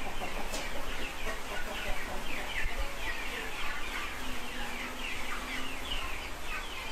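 Cemani chickens, a mostly black breed, cluck and call in a steady, busy flock chorus against constant background noise, with many overlapping short notes.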